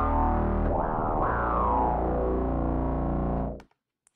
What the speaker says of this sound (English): We can do also more straight up kind of distorted sounds.